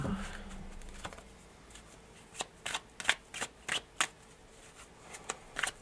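A deck of tarot cards is shuffled by hand, with soft riffling bursts that come in quick repeated clusters in the second half, quiet and close with no talk.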